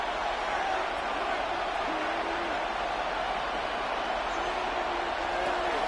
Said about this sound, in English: This Buffalo crowd letting them have it.